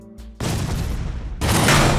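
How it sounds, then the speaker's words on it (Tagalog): An LPG tank explodes outside a house in Parañaque City, a sudden loud boom followed by a sustained roaring blast and a second surge of noise, with no talk over it. "Biglang sumabog ang tangke nila ng LPG sa sobrang lakas."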